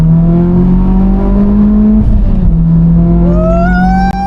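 A car accelerating hard during a pull, its engine note holding steady then rising sharply in pitch as it winds up, loud and close with no talk over it.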